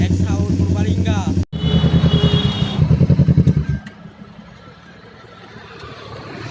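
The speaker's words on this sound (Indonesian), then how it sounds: "Ini knalpot Sapir X Haul Purbalingga." A motorcycle fitted with a Sapir X Haul Purbalingga aftermarket exhaust revs hard close by, a loud burbling pulse that cuts off abruptly and settles into a low idle.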